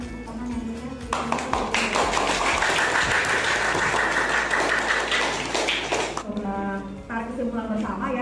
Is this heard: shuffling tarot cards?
no